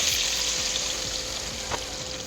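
Rui fish pieces frying one at a time in hot mustard oil in a kadai, a steady close hiss and crackle with soft spatter pops and a brief stirring scrape.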